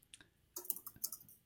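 Computer keyboard typing during a live coding session on a shared terminal, heard as a faint, short burst of a few quick clicky keystrokes with no talk.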